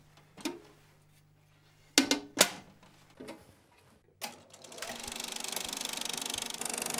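An old film projector in the Bletchley Park museum starts up, scattered clicks and clunks giving way to a steady, rapid whirring clatter, close and loud.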